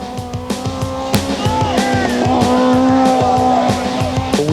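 A lightweight 200 horsepower four-cylinder race car charges up a hillclimb course, its engine note rising and falling through quick gear changes while the tires squeal, loud and close with no talk.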